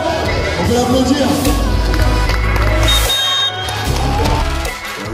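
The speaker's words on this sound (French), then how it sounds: "C'est bien, on peut l'applaudir." Crowd at the first round of France's Strongest Man 2022 cheering and clapping loudly for a strongman competitor, a dense sustained roar of voices with applause throughout.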